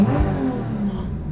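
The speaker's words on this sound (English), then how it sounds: "I also really love how fast it revs." A Subaru GC8 with a swapped 3.6 flat-six engine revs loudly and close up, a brief engine rise and fall lasting just over a second.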